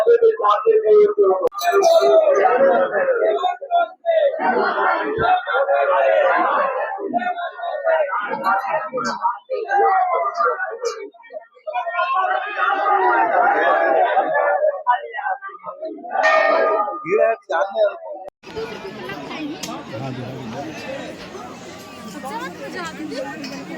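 Pilgrims crowd the Maihar Devi temple of Sharda Mai, filling the air with loud, close, continuous chatter of many voices that turns into a rougher, noisier babble near the end.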